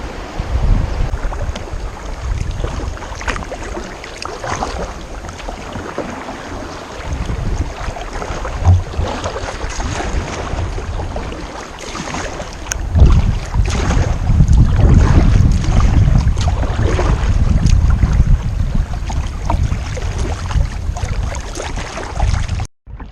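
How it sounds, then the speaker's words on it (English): Kayaks paddle along the Lower Mersey River in Tasmania, with water splashing and rushing against the hulls under heavy wind buffeting on the microphone, loud and continuous throughout. "We are all paddling along at a nice pace."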